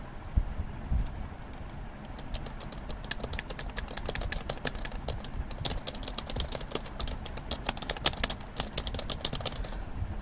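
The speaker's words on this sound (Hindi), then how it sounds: "तो मैं कोई टेक्स्ट लिखता हूँ," Someone types text on a computer keyboard in Notepad, producing a steady stream of soft, quick key clicks over about ten seconds against a low background hum.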